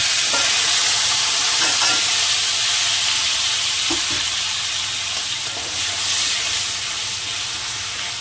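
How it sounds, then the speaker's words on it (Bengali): Onion paste frying in hot oil with whole garam masala for prawn malai curry, a loud, steady hiss and sizzle close up, with occasional soft stirring knocks. "পেঁয়াজটাকে আমি সুন্দর করে ভেজে নেবো।"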